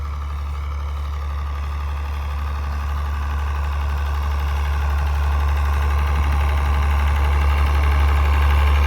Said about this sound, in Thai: เดี๋ยวพาไปดูสูบซิ่งครับกำลังทำงานเลย